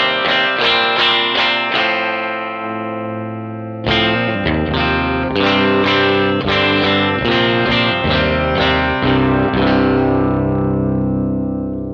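Clean electric guitar signal run through the EQs of a Gamechanger Audio Plasma Pedal, rhythmic chord stabs and ringing notes with a short pause near the start, loud and close, no voices.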